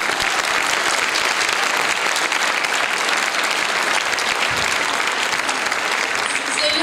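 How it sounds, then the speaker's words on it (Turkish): Large audience at a World Voice Day concert in Istanbul applauding a performer, Efsun Hanım, with steady dense clapping that stays loud throughout and has no talk over it. "Bütün bu güzelliği yaşatan Efsun Hanım'a büyük bir alkış"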